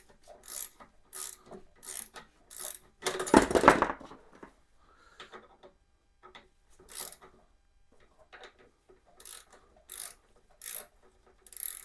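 A ratchet works on the front brake master cylinder of a 1987 Honda GL1200 Goldwing, giving bursts of close, crisp clicking in short runs, with one longer grinding, scraping stretch in the middle.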